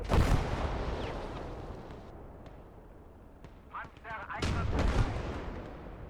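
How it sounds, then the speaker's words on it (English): Heavy booming artillery blasts in the World War II video game Gates of Hell Ostfront, loud rumbling impacts at the start and again near the end, with softer sharp cracks of distant gunfire between. "I've decided to get my own artillery. We'll get that counter firing, some counter battery happening"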